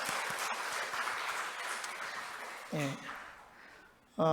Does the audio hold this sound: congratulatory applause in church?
yes